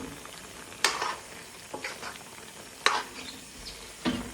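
Salt, turmeric, degi chili, dried coriander and black pepper powders being stirred together for a desi chicken curry, heard as a few scraping, sizzling stirs spaced through the moment with quiet gaps between.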